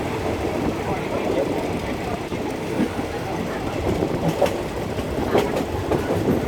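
A train rolls toward a station with a steady rumble and rhythmic clickety-clack of wheels on rail, heard from inside the carriage with faint voices in the background.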